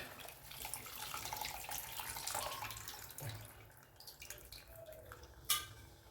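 Tamarind water pours steadily into a pan, a continuous watery splashing with faint metallic clinks, close by and with no voices.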